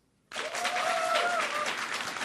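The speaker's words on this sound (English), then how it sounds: "So if you think Batman will be Game of the Year, round of applause" A live podcast audience bursts into applause after a sudden start and keeps clapping steadily at moderate loudness for about two seconds, with a few voices audible within it.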